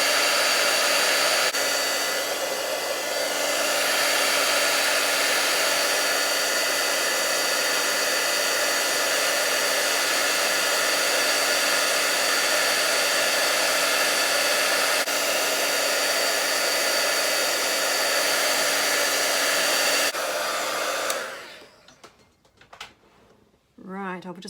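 Heat tool melting embossing powder, a loud, steady blowing whoosh like a hair dryer running continuously for about twenty seconds before switching off, followed by brief talk.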